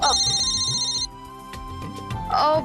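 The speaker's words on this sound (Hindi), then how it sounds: "सिमर का फोन, एक मिनट ना" An electronic phone ringtone trills in a repeating high pattern, then cuts off as people talk over background music.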